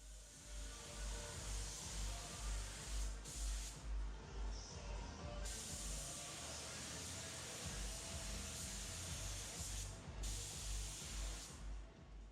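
Steady hiss of a paint spray gun running continuously at about 22 psi, spraying single-stage paint on car parts, with a few brief breaks in the spray, alongside a low rhythmic mechanical hum.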